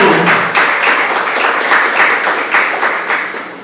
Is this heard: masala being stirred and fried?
no